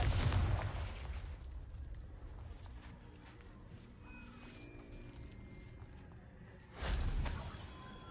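A Confringo fire spell goes off in Hogwarts Legacy, a booming blast at the start followed by a low rumbling tail and faint ambience, then a second heavy burst near the end.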